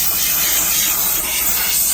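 A steam cleaner works on mold inside a boat interior, giving a loud, steady, close hiss that runs unbroken throughout without any voices.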